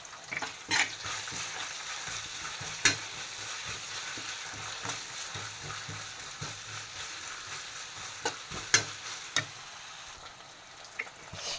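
Onion with crushed ginger and garlic sautéing in a pan for a potato curry, a steady close sizzle broken by occasional clinks of a spoon stirring, with no talking.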